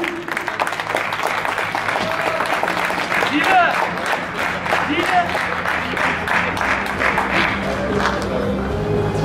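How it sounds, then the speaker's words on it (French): An audience at the final of a professional CS:GO tournament applauds steadily for several seconds, dense clapping with some crowd noise mixed in. "on les applaudit"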